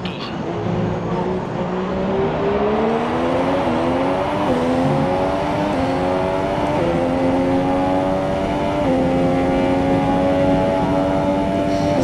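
A Formula 1 car engine screams at high revs during the Canadian Grand Prix in the F1 2017 game, steady and loud as it climbs through gears, with brief dips at each shift.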